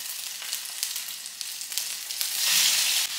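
Salmon fillet frying in hot olive oil, a steady close sizzle with sharp crackling pops and spits scattered throughout, growing slightly louder and denser toward the end.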